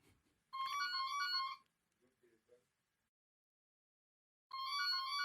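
A phone ringtone plays in two loud bursts separated by a pause, with a few faint, brief voice sounds between the rings during a live broadcast.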